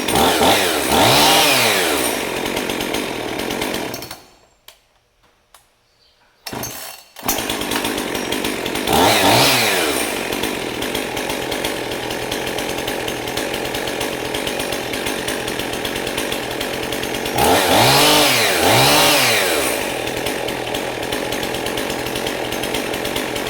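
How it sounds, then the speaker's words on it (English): A Husqvarna 55 air injection chainsaw runs near and loud, idling with several sharp revving surges, cutting out briefly to near silence before firing up again and droning on. "Saw's always started up really good."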